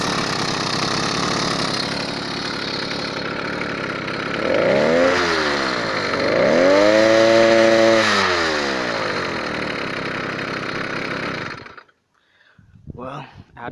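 The engine of a motorized bike runs steadily near the microphone, revving up and down twice in rising and falling sweeps, then cuts off and leaves near silence with a few faint noises.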